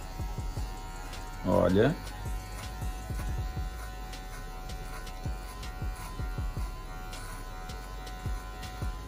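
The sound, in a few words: electric hair clipper cutting afro hair for a low fade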